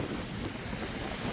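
Sea surf rolls in steadily as the tide rises along a coastline, a continuous broadband wash with some wind noise on the microphone, no speech.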